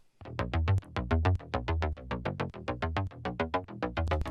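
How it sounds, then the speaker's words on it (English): An Oliver bass patch from the Power Tools 2 sample pack plays a fast, rhythmic run of short plucked bass notes with bright tops and a steady pulse, heard alone. "This third bass I have here is an Oliver bass patch from their Power Tools 2 sample pack"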